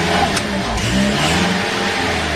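A Toyota Hiace van engine turns over and catches, then revs in short bursts as the accelerator is pressed, a loud, close, continuous mid-frequency motor sound with no voices.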